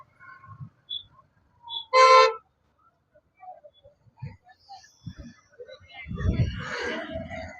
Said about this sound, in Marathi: वाहतूक कोंडीत फसलोय.